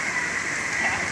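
Morning rain falls at Sadeng beach in a steady, close patter of drops that continues evenly without pause.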